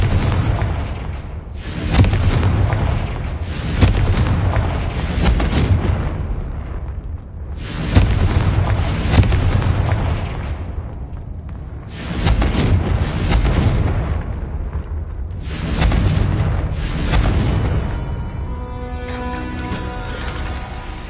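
Repeated Confringo fire-blast spell explosions in Hogwarts Legacy land as loud booming bursts about every two to three seconds, each trailing off into rumble, with no speech.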